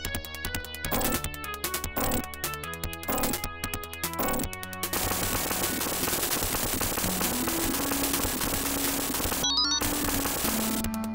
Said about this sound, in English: How's this explosion, eh? It's so, like, it's awesome explosion for the generation.